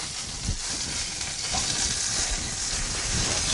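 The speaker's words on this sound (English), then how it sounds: "you see when I put the brandy in" Brandy hitting a hot pan during a cooking challenge, giving a loud, steady broadband sizzle and hiss that holds without a break for the full few seconds, with faint stirring clatter underneath.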